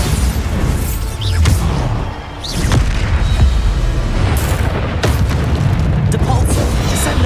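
Bombarda spell explosions boom repeatedly in Hogwarts Legacy combat, heavy blasts landing every second or two amid rumbling crashes and spell effects, loud and close, with voices calling out spells throughout.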